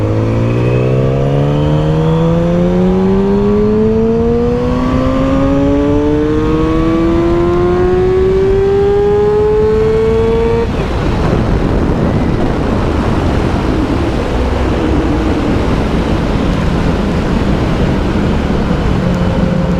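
A 2007 Yamaha R6 motorcycle accelerates hard from 3,000 to about 14,000 rpm, its loud engine whine climbing steadily in pitch. The rise breaks off at a shift into roaring wind and engine noise near 100 mph.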